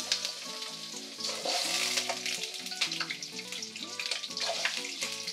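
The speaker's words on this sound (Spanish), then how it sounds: "En una sartén con un poco de aceite vamos a poner a sellar el pollo." Chicken sears in a little oil in a frying pan, a steady sizzle running beneath prominent melodic background music.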